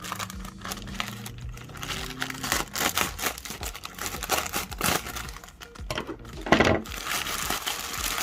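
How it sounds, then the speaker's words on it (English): A sealed plastic jiffy bag is cut open, giving close crinkling, snipping and rustling of plastic in irregular bursts with no voice. "it's just a sealed jiffy bag, which we can actually completely cut open"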